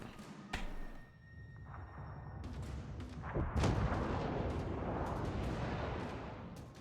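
Warship guns firing in a naval battle game: a few heavy, booming thuds at moderate distance, the largest near the middle, followed by a long rumbling decay over low background noise.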